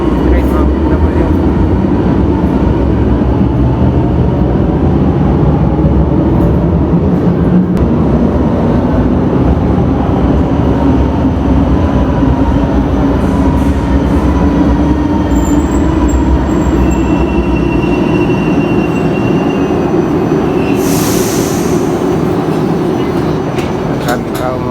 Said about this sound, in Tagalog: Yan, parating ng train